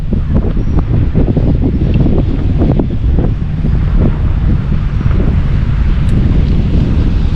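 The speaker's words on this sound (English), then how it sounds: "Bloody windy." Strong wind at a coastal boat harbour, a constant low roaring buffet across the microphone, loud and unbroken, with the faint wash of surf beneath it.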